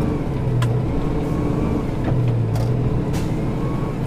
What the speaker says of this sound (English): I can't go until these cars go by.